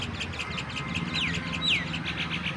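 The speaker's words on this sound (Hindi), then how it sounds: "लेकिन इनका चहचहाना हमें सुनाई दे रहा है।" Birds chirping from their nests on a cold, windy day, a busy layer of rapid small chirps with two clear descending whistled calls standing out, close, over steady breezy background noise.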